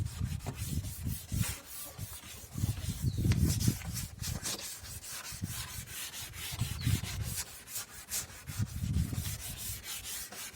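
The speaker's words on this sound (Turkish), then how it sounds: "400'lük zımparayla bu şekilde 20 dakika boyunca zımparalayacağım." Hand wet sanding of a yellowed, oxidized car headlight with 400 grit sandpaper, giving close, steady rhythmic rubbing and scraping strokes that continue throughout.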